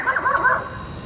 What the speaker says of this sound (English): Oh, it's a little dog.